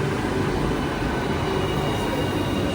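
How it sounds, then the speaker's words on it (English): A train rolls into a station with a loud, steady rumble and broad rushing noise that holds constant throughout, with no voices. "Finally the train arrived."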